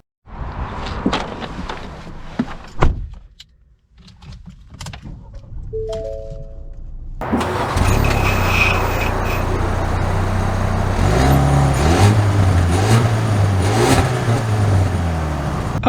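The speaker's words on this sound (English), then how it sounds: "setting off in the Maverick Tremor" A 2023 Ford Maverick Tremor XLT pickup starts with a short burst of cranking, then settles into a steady engine hum that builds as the truck pulls away, with a few clicks and handling noises before it.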